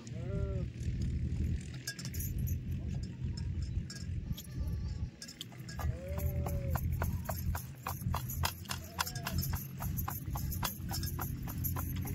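Sheep bleat several times on a rural Maharashtra farm among livestock, short wavering calls rising over steady outdoor background noise with occasional hoof clatter and a person talking.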